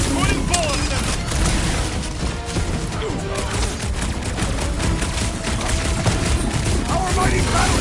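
Rapid bursts of gunfire from Marvel's Guardians of the Galaxy action game, loud and continuous with crashes and impacts under a steady game soundtrack.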